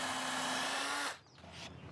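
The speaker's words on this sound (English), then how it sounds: "So I'm just going to head and drill in here." A power drill with a countersink bit bores into a pine bench seat, a steady whirring run of about a second that cuts off abruptly, followed by faint handling noise.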